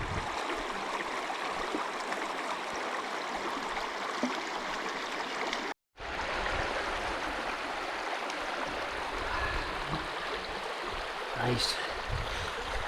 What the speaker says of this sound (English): I just love places like this, with burns flowing through.